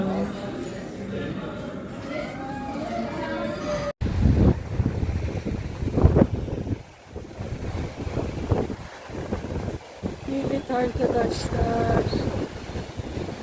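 Strong wind buffets the microphone over the wash of the sea at a Turkish waterfront, with gulls and people speaking intermittently.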